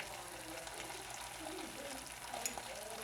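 Onions, peppers and mushrooms fry in a pan for a vegan omelette, giving a steady, soft sizzle with faint crackles and no talking.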